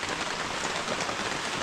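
Steady rain falls on a surface outdoors, a dense, even hiss of close drops that never lets up across the short stretch, with no voices.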